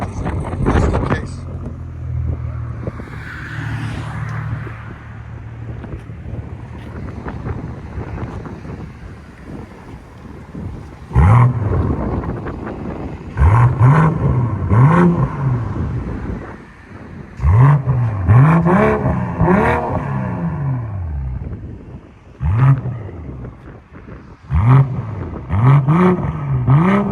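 A 2021 BMW M340i with a 3.0L turbo inline-six and straight-piped exhaust idles with wind rumble, then revs loudly several times in sharp repeated bursts, while people talk in between.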